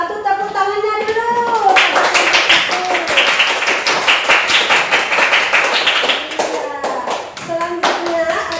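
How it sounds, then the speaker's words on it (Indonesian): A classroom of students claps after a group presentation, a fast crowded patter of hands that runs steadily, with a teacher's voice speaking over the start and again near the end. "Tepuk tangannya dulu."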